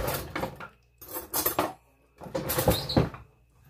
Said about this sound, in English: So I'm gonna go ahead and serve us in the bowls